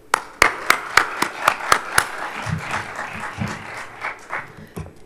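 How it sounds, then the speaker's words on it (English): Sharp, steady claps ring out at first, then spread into warm, sustained applause from a crowd, filling the room. "Please join me in giving a round of applause to Crystal."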